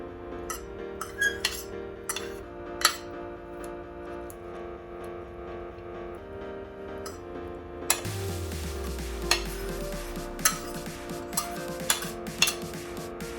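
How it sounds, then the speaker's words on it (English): Onions being mixed by hand for milkfish ceviche (kilawing bangus), with soft stirring and scattered light clinks of utensils against a bowl, steady and close, no voices. "And then we mix the onions,"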